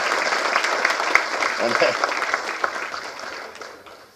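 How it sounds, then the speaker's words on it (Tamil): An audience at a film audio and trailer launch event breaks into brief applause, a dense patter of clapping that fades out within a few seconds. "கொள்ளு பேரனுக்கு ஒரு கைத்தட்டு"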